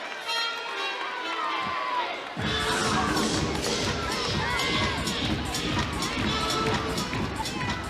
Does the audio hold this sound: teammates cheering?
yes